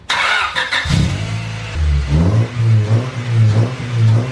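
A Honda Civic with a D16 engine and a new induction kit revs several times in quick succession. The engine note is loud and close, rising and falling in short bursts with no talking.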